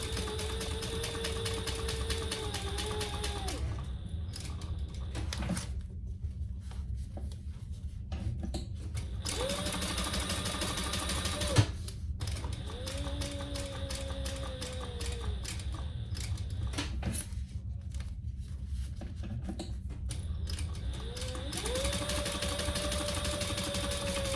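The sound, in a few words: sewing machine stitching fabric seam of mini wallet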